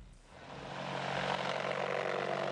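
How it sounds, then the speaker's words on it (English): A Eurocopter Tiger attack helicopter roars past in flight, its engine and rotor noise swelling from quiet to a loud, steady, close drone. "And here the European Tiger roar"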